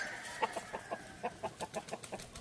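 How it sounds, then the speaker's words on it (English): A 3-year-old rooster and old sweater hens cluck in a steady run of short, sharp calls, roughly ten evenly spaced notes over a low farmyard hum. "Those are a 3-year-old rooster and old sweater hens."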